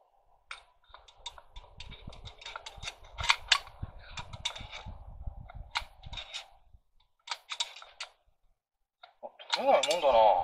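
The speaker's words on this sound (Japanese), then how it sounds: "もう仕方ないからドライバー突っ込んで取っちゃいましょうか" Screwdriver jammed in to pry a stuck part from a Yamaha YZF-R25 at a track: a run of sharp metallic clicks and scrapes in irregular bursts, near and fairly quiet, ending in a louder rattling scrape.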